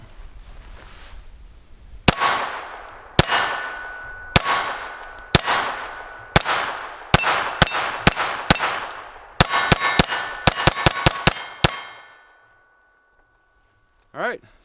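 A Sig P322 pistol fires CCI Blazer rounds at steel targets. About eighteen sharp shots ring out with metallic pings, spaced unevenly at first and then in quicker strings, before falling silent, followed by a brief faint sound at the end.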